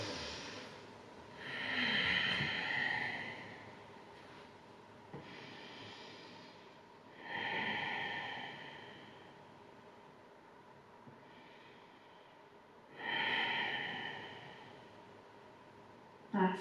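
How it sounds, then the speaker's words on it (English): Slow, deep yoga breaths during a dynamic hip flow: three long, soft breathy swells, each rising and fading over a few seconds, with quiet pauses between them. "let's take 5 more big breaths here"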